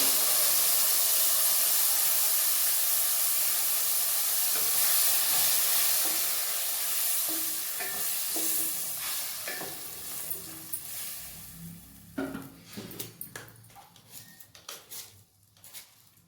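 Tomato paste hits hot oil in a pan, setting off a loud, continuous sizzle and hiss that gradually fades, then gives way to close clattering stirring sounds toward the end.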